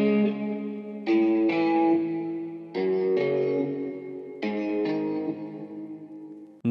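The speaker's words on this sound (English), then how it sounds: "I went ahead and used Valhalla plate for some reverb, RC20 for that retro sound" Drill beat built in FL Studio, its tonal melodic chords drenched in Valhalla plate reverb and a gritty RC20 retro effect, with sustained notes re-struck in blocks about every second and a half, no drums or voice present.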